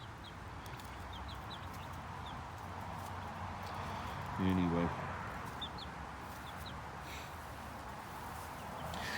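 Forty-four-day-old chicks peck for bugs in a compost heap outdoors, giving faint, scattered cheeps and clucks against quiet ambience, with someone speaking briefly near the middle.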